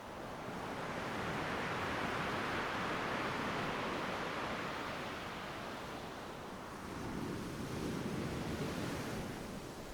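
Ocean surf rolls in a broad, steady wash, swelling and easing as waves break, with some wind rumble on the microphone.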